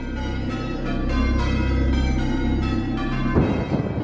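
Church bells ring steadily and loudly, overlapping tones sustained throughout, with a brief clattering knock near the end.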